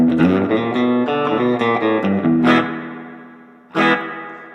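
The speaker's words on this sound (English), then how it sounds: "You have a 60s spring reverb," Electric guitar chords ring out through a splashy spring reverb, strums decaying into a wet tail, then one last chord blooms and fades.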